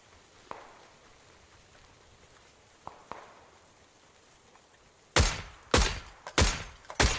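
Gunfire in the battle royale shooter PUBG: a few isolated distant shots early on, then a rapid string of loud, close bursts near the end, with no talking.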